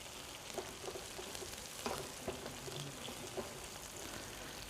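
Chopped onion sizzles in a skillet during a second cooking for Antioquian fried arepas, a steady close crackling hiss with small pops and occasional stirring.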